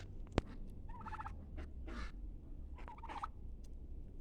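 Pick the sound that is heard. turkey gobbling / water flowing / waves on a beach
turkey gobbling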